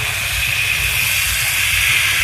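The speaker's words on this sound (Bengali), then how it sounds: "এবারে কিন্তু আমি একটু নাড়িয়ে চাড়িয়ে মাংসগুলো দিয়ে দেবো।" Chicken pieces dropped into hot oil and spices in a pan for chicken kosha, giving a loud, continuous close-up sizzle and hiss with no talk.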